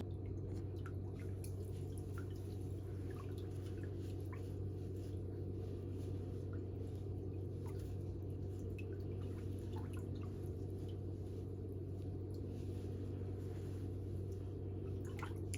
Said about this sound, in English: You can put that foot back in the water.